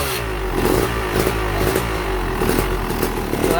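A Yamaha YZ250 two-stroke dirt bike engine idles close by with a steady, uneven burbling putter and slight wavering in pitch, and no one talks over it.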